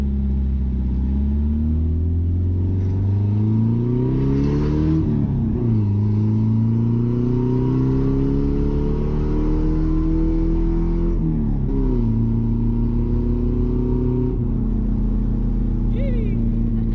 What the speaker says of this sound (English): How much I like this exhaust when it's loud.